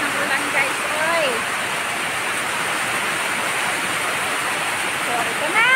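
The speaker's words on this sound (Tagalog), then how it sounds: "lakas ng ulan" Steady, dense hiss of heavy rain pouring down, constant and loud throughout, with a few faint bird calls and brief voices in the background.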